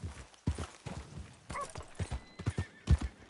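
Horse hooves clip-clop in the Red Dead Redemption 2 video game, a quick, close rhythm of thudding steps that sounds like a ride at a trot, with a faint whinny partway through.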